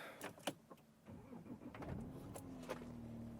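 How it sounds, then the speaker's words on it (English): A diesel Audi Q7 engine cranks and starts, a rising whir around two seconds settling into a steady low idle hum, close by and with no talk. "I'm gonna start the engine."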